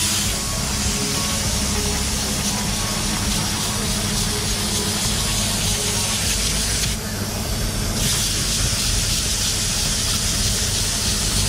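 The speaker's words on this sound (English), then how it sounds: "To clean the air filter, spray from the outside and not from the inside" Compressed air sprays from the outside onto a motorcycle air filter to clean it: a loud, continuous broadband hiss lasting throughout, with one brief change in tone partway through.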